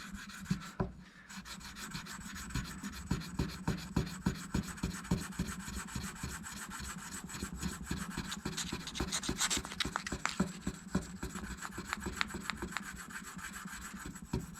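On a Harley Benton guitar neck, a sanding tool is rubbed back and forth across the frets, making a steady rasping scrape with regular strokes, close and moderately loud, with no talking.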